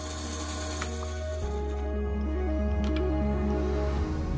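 A drill press tapping machine hums steadily as it cuts a thread, then its pitch shifts in stepped changes as it stops and reverses, a close mechanical drone without speech.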